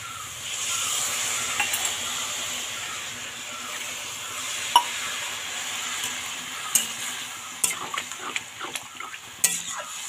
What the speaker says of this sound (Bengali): তো এবার আমি জল ঢেলে দেবো।